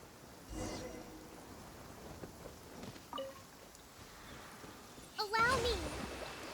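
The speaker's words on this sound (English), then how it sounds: "Marching in the rain conceals the sound of our arrival, but is also a test of stamina." Steady rain falls through a Genshin Impact game scene, a soft continuous hiss with brief character vocal sounds and a rising tonal effect near the end.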